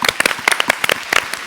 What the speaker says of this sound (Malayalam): നമ്മുടെ നിയാസ് മാസ്റ്ററിന് ഒരു കൈയടി കൊടുക്കണ്ടേ?